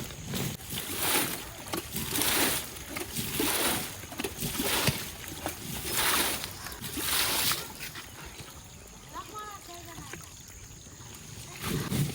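Water sloshes and splashes in repeated bursts as water chestnuts are washed at a village market, with faint voices nearby.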